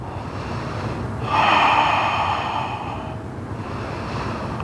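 Audible breathing while holding a yoga bridge pose, with one stronger, noisy exhale swelling near the middle over a steady background, then settling back down; no one talks.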